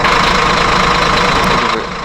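A concrete mixer truck in Simple Sandbox 3 runs with a steady, loud mid-pitched engine drone and slight knocking vibration, alone without talk, easing off slightly near the end.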